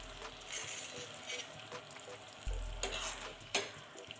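A tempering liquid of sugar, lemon juice and green chilli boiling in a pan over a gas flame gives a steady close sizzle and bubbling, with a few louder spurts, and no speech.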